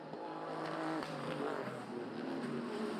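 Race cars at the restart of an endurance race accelerating away as a pack, engines revving in overlapping rising tones, fairly distant and moderately loud over about three seconds with no talk.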